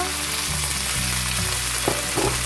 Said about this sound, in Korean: 마늘이 노릇노릇해졌으면 여기다가 이제 새우, 새우를 넣어주고요.